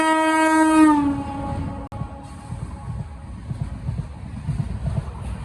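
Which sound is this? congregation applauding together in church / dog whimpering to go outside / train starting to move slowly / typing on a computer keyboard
train starting to move slowly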